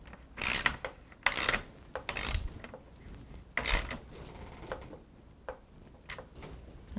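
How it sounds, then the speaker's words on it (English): A 17mm socket wrench tightening the rear axle nut on a STACYC electric balance bike, heard as several short bursts of ratcheting clicks and rubbing metal, separated by brief pauses. "Using a 17mm socket or wrench, tighten the left side axle nut."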